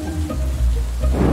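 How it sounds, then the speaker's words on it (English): Steady rain with a low rumble underneath builds in intensity, filling the space with a dense wash of falling water that swells louder toward the end. "The rain is getting stronger."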